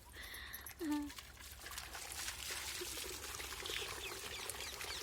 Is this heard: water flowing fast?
yes